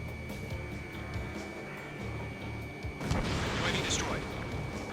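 A UAV explodes after a missile hit in the video game Ace Combat 7, a muffled burst near the end under steady jet engine drone and radio chatter.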